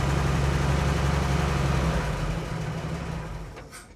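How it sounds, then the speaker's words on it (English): An old Chevy truck engine runs close by with a steady rumbling idle, then gradually fades and winds down toward the end. "The truck runs again, success."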